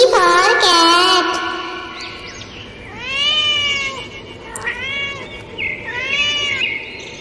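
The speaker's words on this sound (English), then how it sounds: "C for cat." A cat meows several times in clear, rising and falling calls, one near the start and a few more spaced out after a pause, heard alone without talk.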